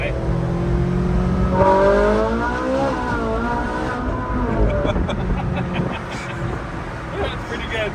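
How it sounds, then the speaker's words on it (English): A car engine revs up loudly through its stock exhaust, rising and falling in pitch with a throaty rumble, recorded close by. "It's got some good noises, and this is still stock exhaust and everything too."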